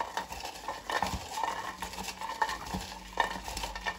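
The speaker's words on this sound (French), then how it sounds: "Je remélange à la main." Hand mixing in a container: soft, steady stirring and scraping with a few light clinks of a utensil, continuous and close, with no talk.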